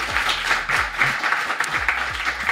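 A studio audience claps for a guest being introduced on a French talk show, a brief burst of steady, moderately loud applause.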